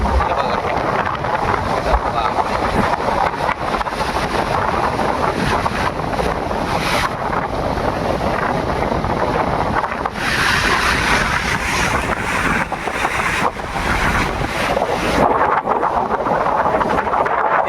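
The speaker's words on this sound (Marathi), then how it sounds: "लाटा बघा काय मारतायत." Rough monsoon sea at Harihareshwar, with waves crashing hard under strong wind: a steady, loud roar of surf and wind buffeting the microphone, continuous for the whole stretch with surges as the breakers hit.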